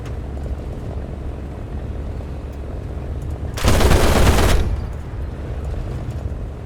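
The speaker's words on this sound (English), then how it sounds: "I peppered the P-47 with bullets" In War Thunder, a fighter's guns loose one loud sustained burst at a P-47 for about a second, set over the steady droning roar of an aircraft engine.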